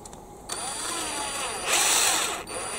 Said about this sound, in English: going in really carefully with an 8 millimeter drill bit